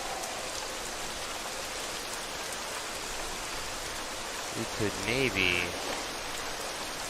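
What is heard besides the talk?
rain falling in video game The Isle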